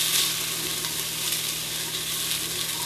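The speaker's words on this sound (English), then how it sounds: "So give that a little stir." Beef and vegetable stew ingredients sizzle steadily in a pot as they are stirred, a close, continuous frying hiss with no voices.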